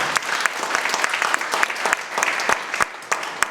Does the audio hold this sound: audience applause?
yes